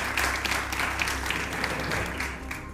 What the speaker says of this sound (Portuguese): Uma salva de palmas, Carlos Pereira.